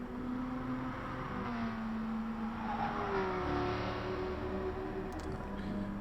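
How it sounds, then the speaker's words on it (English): A race car engine in Gran Turismo Sport at Goodwood Motor Circuit drones steadily with rising and falling pitch as it revs, loud and continuous, with a crowd-like wash behind it. "Amazing engine on that car"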